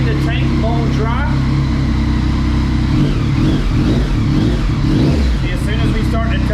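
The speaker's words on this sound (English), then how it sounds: "E85 is in, bike is running" A Yamaha MT-09 motorcycle running on E85 fuel revs steadily, its engine note rising and falling in loud, continuous bursts with no pauses, and talk is heard over the engine throughout.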